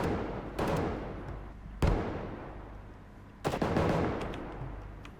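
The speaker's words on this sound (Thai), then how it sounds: "ปืน ปืนฝั่งโจร เสียงดังมาก" Guns fired by robbers in a Roblox shooting game crack out in three loud bursts of rapid shots, each ringing briefly before the next.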